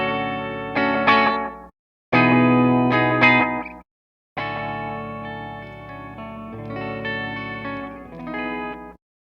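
Electric guitar chords ring out through a modulation pedal with a low rate setting, shimmering and wavering, played in separate phrases with short silent gaps between them.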